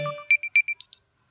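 An AirPods charging case beeps during precision finding: six short, clear electronic tones in quick succession, rising in pitch toward the end, close and alone.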